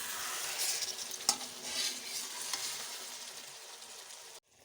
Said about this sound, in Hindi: नींबू का रस, हरी मिर्चें और इसको मिक्स कर लेंगे।